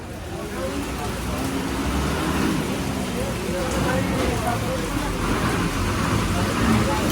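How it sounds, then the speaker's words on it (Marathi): Rain falls on a busy market street. A dense, steady patter mixes with passing traffic, and people talk over it the whole time. "अचानक दो पाऊस आला आणि पावसात भिजलो आहे"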